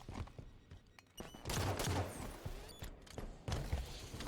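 Faint gunshots in a one-on-one competitive shooter match crack out as single sharp reports and short clustered volleys, separated by brief quieter stretches.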